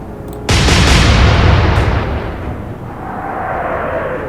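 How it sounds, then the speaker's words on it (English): Warship guns open fire in a naval combat game set in the Battle of the Atlantic, a sudden loud boom with a heavy rumbling tail that fades slowly over several seconds, with no speech. "Open fire. Fire!"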